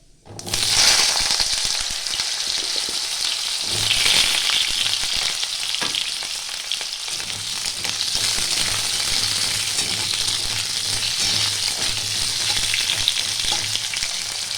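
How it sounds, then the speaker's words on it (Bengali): Potato pieces fry in hot oil for a Bengali prawn-and-mixed-vegetable curry, giving a loud, steady sizzle with a brief spatter near the start and continuous crackling throughout, with no talking. "আলুগুলো আমি 1 মিনিটের মতো একটু ভাজা ভাজা করে নেব।"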